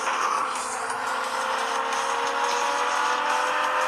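Car engine in the GT Racing video game, a steady, loud, continuous drone with a smooth whine holding throughout the race, with no talk over it.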